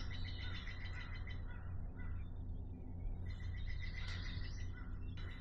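Outdoor chorus of songbirds including a towhee, a robin, Wilson's and yellow-rumped warblers, with overlapping chirps and trills at moderate distance over a steady low background hum.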